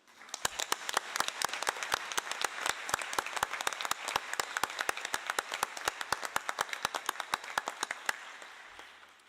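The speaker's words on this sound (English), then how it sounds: "I want all of us to applaud this committee." An assembly audience applauds a committee at a UN-Habitat Assembly closing ceremony: a large hall of steady, rapid clapping that holds for about nine seconds and then tapers off, with sharp individual claps standing out against the spread of the room.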